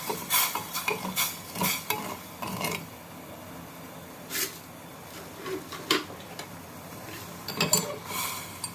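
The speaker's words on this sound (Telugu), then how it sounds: "మంచిగా కలిపెట్టుకుంటూ కరిగించుకుంటూ ఉండాలి" A spoon stirs milk and sugar in a pan for eggless bread pudding, making repeated close scraping and clinking strokes in an uneven rhythm over a faint simmer, with no talk.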